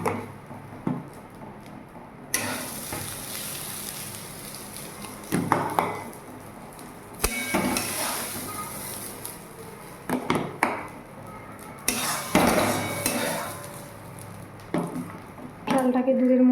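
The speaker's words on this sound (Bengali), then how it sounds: "চালটাকে দুধের মধ্যে দিয়ে বেশ ভালো করে নেড়ে দেব।" Rice being stirred into boiling milk in a pot for kheer with jaggery, close spoon scrapes and clatter in irregular bursts over a low bubbling background.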